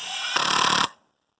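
An 18-volt Metabo impact driver fires in one short, loud, rattling burst of about half a second, then cuts off to silence, with a steady tonal hum beforehand.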